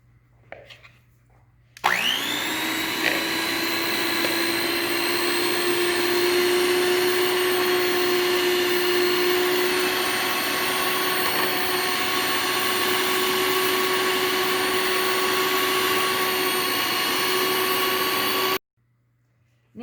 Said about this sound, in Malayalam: അപ്പോൾ ആദ്യം നമ്മൾ ഈ ബട്ടർ നന്നായിട്ട് ബീറ്റ് ചെയ്തെടുക്കാൻ പോവാണ്.